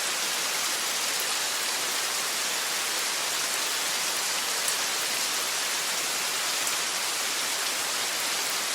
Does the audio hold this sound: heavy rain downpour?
yes